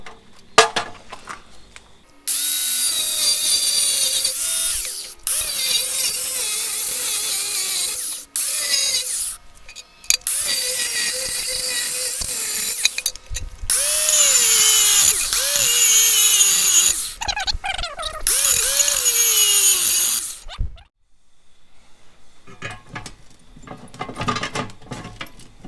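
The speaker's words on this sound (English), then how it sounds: "I'm going to lay the box down where I can come in with the cut wheel and just cut straight down to here" A cut-off wheel slices through the metal of a trail camera security box in several loud, close bursts. The screeching whine rises and falls in pitch, with short pauses between cuts.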